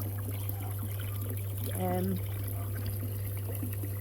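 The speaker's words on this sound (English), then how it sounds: "I do apologise for the noise of the water" Water trickles and runs continuously in the background of a garden pond beneath a steady low hum, with a brief voice-like tone in the middle.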